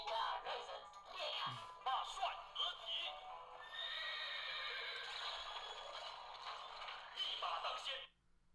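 A horse neighs in a video game as the Hunter Stallion Summoner is used, a loud drawn-out whinny lasting several seconds, with game effects and a voice around it.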